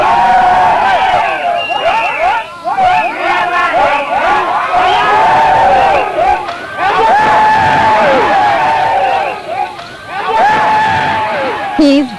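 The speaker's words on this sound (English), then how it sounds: "The villagers crowd around him in a celebration of his triumph that will go on far into the night" Villagers crowd around a tower diver after his 81-foot dive, a dense, loud throng of cheering, whooping and excited shouting that surges in waves throughout, with many voices overlapping.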